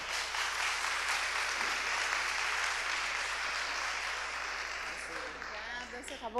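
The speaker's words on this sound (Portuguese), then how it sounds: "uma salva de palmas para a Raquel Preto." An audience claps steadily in a dense, sustained wash of applause, fading slightly near the end as a voice begins speaking.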